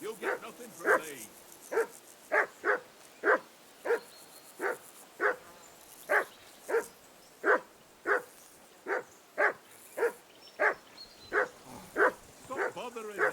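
Dog barking repeatedly in Kingdom Come Deliverance 2, about twenty evenly spaced yaps over a steady outdoor ambience, with a few whimpering tones between barks; no voices heard.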